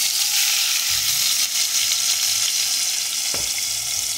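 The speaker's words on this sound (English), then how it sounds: "see the oil get a little bubble in the bottom?" Hot oil bubbles and hisses in a pot for a Kittitian mix-up pot, a loud continuous sizzle close by, broken by a couple of low knocks as something shifts.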